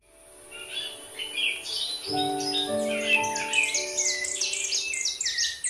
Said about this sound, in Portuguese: As aves já fazem parte do cotidiano três-lagoense